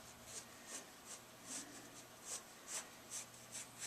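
A pencil sketching on paper gives soft, close scratching strokes in an even rhythm of short repeated marks, quiet and with no voice.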